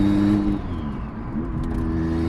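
BMW 335i single-turbo with a twin-disk clutch, its engine note steady, then dipping briefly mid-clip as a gear change happens before the drone resumes, close and loud with no talk.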